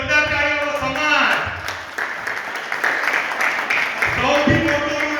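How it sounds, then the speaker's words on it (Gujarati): Applause from an audience at a Jain community gathering in Rapar swells for a few seconds as a steady wash of clapping, with a voice speaking before and after it. "વન્ડરફુલ જોરદાર તાળીઓ સમાજ"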